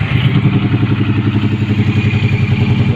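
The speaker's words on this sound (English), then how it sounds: "Now just start the bike up." Suzuki Boulevard M109R motorcycle with a modified exhaust running close by, giving a loud, deep, pulsing engine rumble with a steady lumpy rhythm throughout and no talking.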